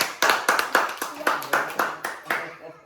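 Children clap their hands in a quick run of about ten sharp, evenly spaced claps, close by, fading out at the end.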